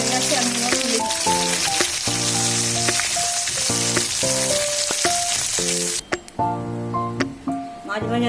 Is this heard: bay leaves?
yes